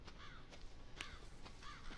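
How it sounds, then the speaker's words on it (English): In the swamp setting of the video game Resident Evil 7 Biohazard, a couple of crow caws sound faint and distant over a constant bed of ambient noise. "There's birds. I'm getting crows."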